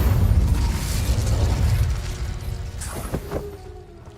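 The Incendio fire spell is cast in Hogwarts Legacy with a low rumbling whoosh that fades over a few seconds. A couple of sharp mechanical clicks and pops follow near the end, and no voices are heard.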